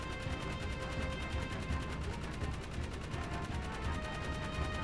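Rapid automatic gunfire in the Jak 3 video game, a dense continuous stream of shots with a steady rattling pulse lasting several seconds, loud and close, with no talk over it.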